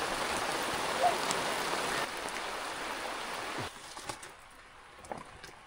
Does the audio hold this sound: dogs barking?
no